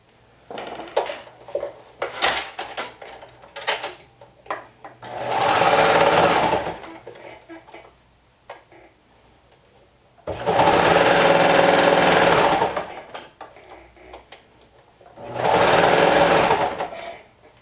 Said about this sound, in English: we're going to run it through the serger with a 1/4 of an inch seam allowance. and we're going to stretch only the band as we go